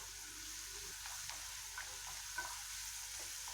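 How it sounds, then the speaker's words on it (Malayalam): Cashews go into a pan where garlic and ginger are sautéing for butter chicken, giving a faint steady sizzle with soft scattered stirring clicks, quiet and without voices. "ഇനി നമുക്കതിലേക്ക് അണ്ടിപ്പരിപ്പ് ഇട്ട് കൊടുക്കാം"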